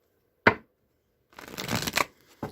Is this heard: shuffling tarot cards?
yes